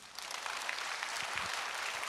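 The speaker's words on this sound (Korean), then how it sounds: "우리 하나님께 박수로 영광 돌립니다." Congregation applause at an overnight repentance prayer meeting, a continuous wash of many hands clapping, fairly soft and steady throughout.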